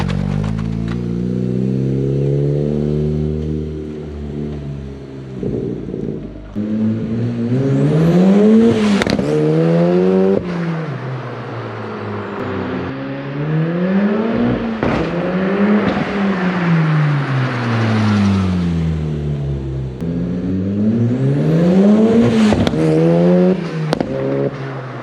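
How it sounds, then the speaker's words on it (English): A turbocharged 1.8 20-valve engine in a Toyota MR-S, run up through the gears on a dyno, rising and falling in repeated pulls with a loud, close whine and drone, dipping between each climbing sweep. "let the car warm up and go from there"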